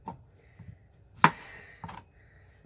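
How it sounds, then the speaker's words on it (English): A knife chops the ends off cucumbers on a cutting board, two at a time, giving one sharp, close thwack with a brief ring and a couple of softer knocks around it, no talking. "before we start chopping, I like to chop the ends off"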